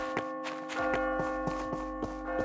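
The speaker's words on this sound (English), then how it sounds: "There's the noon bell." A tonal noon bell chimes in the game My Time at Portia, its sustained ringing tone under a regular series of soft taps like footsteps. The bell stays moderately loud and steady throughout.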